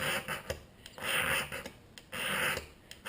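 A steel striker scrapes shavings off a fire starter rod in repeated rasping strokes, close and fairly loud, with short pauses between the longer scrapes.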